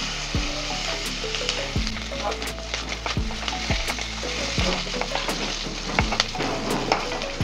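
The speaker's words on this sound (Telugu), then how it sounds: "కొద్దిగా పచ్చిమిరపకాయలు వేగినాక ఇందులో మెంతి కూర వేసుకోవాలి." Cumin seeds and green chilies frying in hot oil for a fenugreek-leaf chutney, a steady close sizzle with repeated clinks and scrapes of a stirring spoon against the pan.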